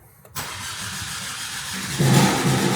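A car engine cranks under the starter in a workshop while its injector sockets are disconnected, a steady loud grinding drone that swells louder near the end without catching, no speech.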